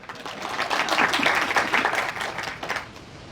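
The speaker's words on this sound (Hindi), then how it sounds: "ये तीन वालों को प्रणाम करिए सब लोग भैया, ताली बजाइए इनको" Audience applause rings out at a gathering honoring guests, a steady dense patter of many hands clapping for about three seconds before tapering off.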